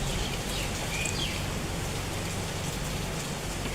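Rain falls steadily in a continuous, even patter that holds at the same level from start to finish, with no voices.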